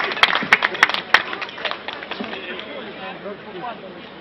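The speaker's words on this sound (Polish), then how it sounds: "Wielkie brawa, zapraszamy." Audience applause at a winners' award ceremony for the Letni Puchar Bieszczadów sports competition in Zagórz: a burst of sharp, scattered claps in the first second, fading into a murmur of crowd chatter and voices.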